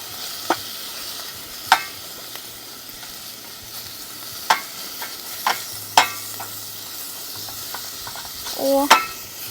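Oysters and bacon sizzle on an outdoor grill in a Thai village while a utensil stirs them, sharp scrapes and clinks popping out at irregular moments over a soft, continuous hiss.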